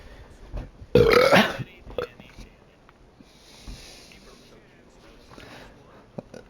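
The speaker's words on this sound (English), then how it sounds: "Somewhere out there, Joe's burping." A loud, close burp of about half a second rises sharply out of quiet game background noise, and faint sounds follow it.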